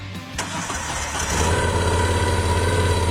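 A motorcycle engine cranks briefly and catches, then settles into a steady, loud idle close by.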